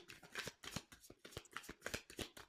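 Tarot cards are shuffled in quick, crisp bursts of riffling and sliding, close and fairly quiet, repeating in an uneven rhythm with brief pauses between.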